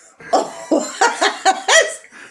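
A rough, hacking cough from a woman, voiced like a heavy smoker's, comes in about five close bursts, loud and near, with no other sound around it.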